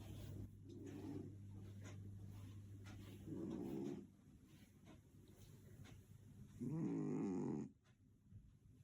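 Loud, deep snoring comes in three long rasping breaths, evenly spaced and close by, with quiet stretches between them and no talking.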